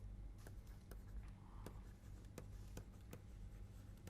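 Pen or marker writing on a board during an economics lecture, a series of faint, scratchy strokes with sharp taps at intervals, close by over steady room hum, with no talk.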